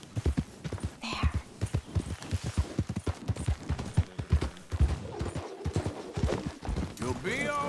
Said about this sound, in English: I'm trying to catch this horse.